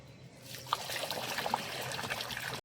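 Rice for a beef biryani is rinsed and drained, water trickling and splashing in a fairly soft, uneven stream with a few sharper drips, ending abruptly; no one speaks.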